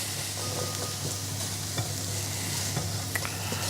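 Chickpea falafel vegetable mixture sizzles steadily in a hot pan, a continuous broadband hiss with a few scattered scrapes and pops, close and fairly loud, no voices.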